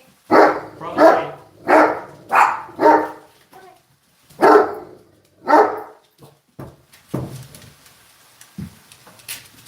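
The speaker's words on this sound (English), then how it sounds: "I don't know what he's barking at." A dog barks at someone driving by outside, seven loud, evenly spaced barks close by, followed by a few quieter, scattered sounds.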